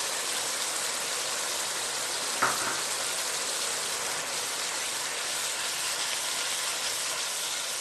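Ginger garlic paste frying in hot oil for prawn biryani, a steady broadband sizzle that runs unbroken and evenly loud from start to end, with one short clink partway through.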